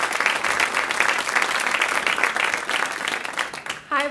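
Applause from an audience welcoming two marine biology speakers at an Earth Day climate concert, dense clapping sustained throughout before a voice briefly begins at the very end.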